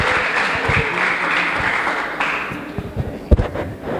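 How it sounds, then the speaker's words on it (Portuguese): A church congregation claps and applauds during a worship service, a steady dense patter of many hands for a few seconds before thinning out into a handful of scattered louder claps. "Vamos aplaudir esse Deus."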